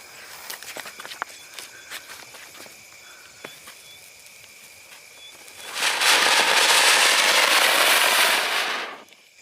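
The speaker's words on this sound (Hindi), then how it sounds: "तो ये छोटा साइज का अनार अपने साइज के हिसाब से बहुत ही शानदार चला।" Small Kumar Guru brand anar fountain firecracker lit on the ground for Diwali, first faint crackles and ticks, then a loud steady hissing spray of sparks that lasts a few seconds before cutting off.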